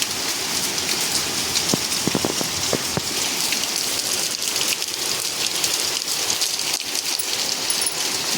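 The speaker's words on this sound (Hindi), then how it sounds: "बहुत ही तेज बारिश पड़ रही है।" Very heavy rain pours down in a loud, continuous wash, with a few sharper drips and taps standing out early on against the steady downpour.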